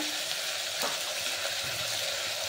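Mixed raw vegetables, tomato among them, sizzle in a little oil, a steady broadband frying hiss with a soft stir or clack near the start, no voices.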